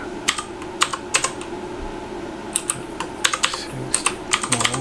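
Typing a command on a computer keyboard for an nmap TCP sweep against Metasploitable2: a quick, irregular run of crisp key clicks in small bursts, close and fairly loud over faint background hum, with no talking.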